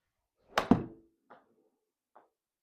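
Golf ball struck with a lob wedge into a Trackman simulator screen for a 65-yard shot: one solid close thunk with a quick double impact, followed by two faint soft knocks in an otherwise quiet room.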